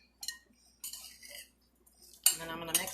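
Galette filling seasoned with salt, pepper and garlic being stirred in a bowl, with a few soft scrapes and light clinks of a utensil against the dish, followed by a louder, busier stretch of mixing.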